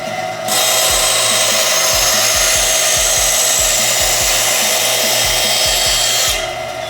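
A Rikon 10-inch bandsaw switches on and runs with a steady, fairly quiet whir and a faint rhythmic ticking from the blade, close by, then spins down at the end with no talk.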